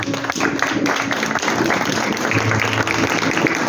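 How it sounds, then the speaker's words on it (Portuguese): A church congregation applauds during a service, a loud, dense wash of clapping sustained throughout, with steady low tones held underneath and no talk. "Pode se assentar, aplaudindo ao Senhor."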